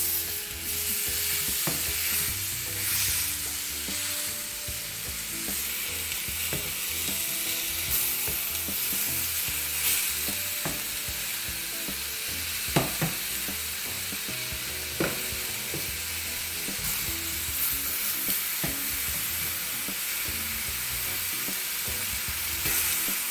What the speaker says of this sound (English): With the remnants of brown sugar in the pan, we're going to brown the oxtails.